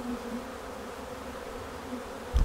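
Honey bees buzzing around hive boxes packed tight with bees, a continuous low even drone throughout with a brief knock at the end.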